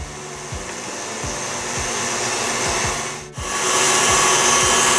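KitchenAid stand mixer whisking egg whites with sugar, a steady close motorized whir with a rhythmic beating pulse that briefly dips and then runs on slightly louder.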